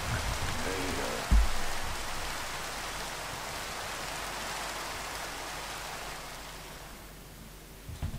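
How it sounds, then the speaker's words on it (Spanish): Steady rain falling in a Minecraft game, a soft even hiss throughout with one brief thump early on, faint and alone without talk. "Está lloviendo."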